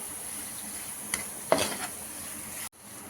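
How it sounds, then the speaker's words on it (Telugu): Gulkand, a sweet rose petal preserve, is stirred in a pan over a gas flame, giving a few scraping strokes and a louder spoon-against-metal clatter midway, with a soft steady hiss beneath, then a sudden cut near the end. "ఇలా మంచిగా మిక్స్ చేసేసుకొని"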